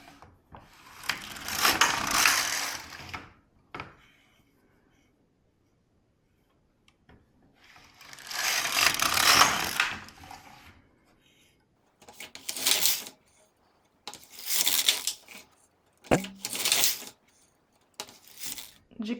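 An LK150 knitting machine carriage slides back and forth across rows of a sock heel in rhythmic bursts of rattling, whooshing noise, longer passes giving way to shorter, quicker strokes with quiet gaps between.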